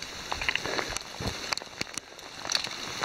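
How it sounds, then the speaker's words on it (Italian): Heavy rain falls just outside a cave entrance in the Grotta Sciason, a steady broadband patter with scattered louder drops and splashes close by, no voices. "piove di brutto."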